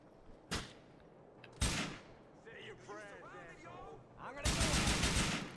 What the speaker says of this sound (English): Of course you're gonna shoot the fucking wall.